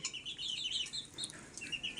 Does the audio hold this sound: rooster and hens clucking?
yes